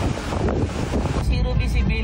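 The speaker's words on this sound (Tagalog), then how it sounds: "Malakas na alon ang naranasan sa Batanes." Strong wind buffets the microphone while storm-driven sea waves crash and surge in a continuous loud roar at Batanes, Philippines, with a voice briefly audible underneath.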